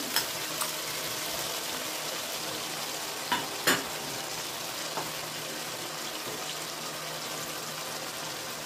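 Ground cumin-ginger paste goes into hot oil in a frying pan, giving a steady, fairly quiet sizzle with a couple of brief clinks from stirring.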